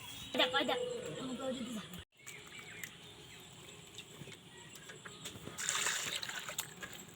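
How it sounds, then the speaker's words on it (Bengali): Water splashes and trickles quietly as peeled, soil-covered carrots are rinsed in a kitchen, a soft intermittent patter with brief louder splashes, under a person talking. "এটা পরিষ্কারভাবে ধুতে লাগবে যেহেতু মাটির এটা গাজর অনেকটাই মাটি আছে"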